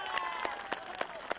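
Scattered audience applause at a public political meeting in Dhakuakhana, Assam, heard as sparse, separate claps at a steady pace under a sustained tone, fairly faint and distant.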